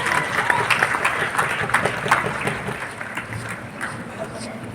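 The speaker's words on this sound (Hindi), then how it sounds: "ताली तो बजाते रहो" An audience applauds at a toppers' award ceremony for intermediate and matric exam students at Gyan Bhawan, Patna: a continuous, fairly loud patter of many hands with a voice talking over it.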